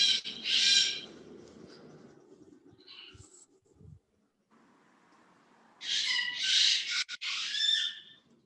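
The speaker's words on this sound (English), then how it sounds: "Some noisy birds there." Noisy birds call outside, loud shrill bursts at the start and again near the end with quieter rustling and faint sounds between, no talking.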